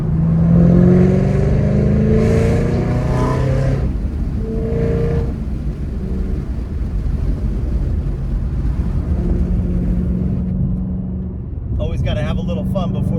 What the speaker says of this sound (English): Got a nice left-hander, downshift into fifth, hit fourth, maybe third for a little fun.